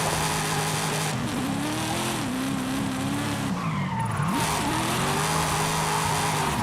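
Dodge Challenger American muscle car drifting in Forza Horizon 5, a steady engine drone with a wavering pitch as the revs rise and fall, plus continuous tire squeal, loud and close with no talking.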